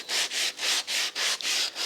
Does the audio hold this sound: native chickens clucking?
no